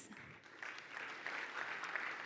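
Guests at a Garmin Fenix 8 product launch clap, a faint and scattered applause that firms into a steady patter, with no speech over it.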